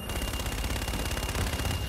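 Rapid machine gun fire in the video game Infinite Warfare, a dense, continuous rattle of shots running steadily for the whole two seconds with no talk over it.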